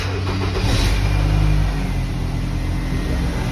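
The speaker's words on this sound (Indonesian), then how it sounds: "Kita coba sambil posisi mobil menyala ya." A car's engine runs steadily at idle during an H4 LED headlight installation, a constant low rumble with a slight rise in revs early on, close by and alone.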